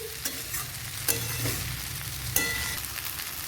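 Chow mein being stirred and tossed in mustard oil in a hot pan, with a steady sizzle and a few sharp scraping strokes of the utensil, close and alone without talk.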